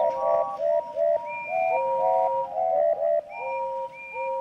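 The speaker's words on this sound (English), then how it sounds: "the rest of his speech was drowned in a delighted chorus of cheers and whistles." A chorus of whistles from Thomas the Tank Engine's railway: several sustained whistle tones at different pitches overlap and repeat in short rhythmic bursts, loud and close, with no talking.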